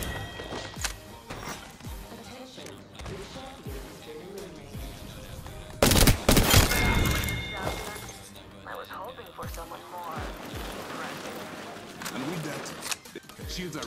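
Gunfire in a shooter video game, with bursts of rapid shots and a loud cluster of blasts midway, amid footsteps and running, while a player's voice talks over the action.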